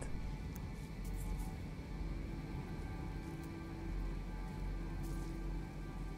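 Steady storm rain in No Man's Sky pours down continuously, a dense hiss of drops with a few brighter spatters, loud and close, with no talking over it.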